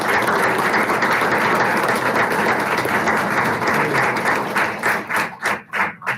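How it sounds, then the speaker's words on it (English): At a school district board meeting, the audience gives loud, sustained applause that holds steady for several seconds, then breaks into a few separate, slower claps as it dies away. "Another big round of applause."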